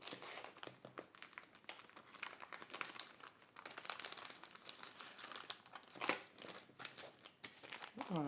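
A small paper envelope is handled and crinkled close up, with continuous rustling and sharp crackles that swell and fade, quiet overall with no clear speech.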